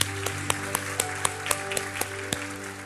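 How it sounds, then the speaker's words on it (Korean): A church congregation at a Christmas Sunday service claps in a steady, even rhythm, with a sustained musical tone running underneath. "우리 한번 하나님께 감사와 영광의 박수를 드리겠습니다"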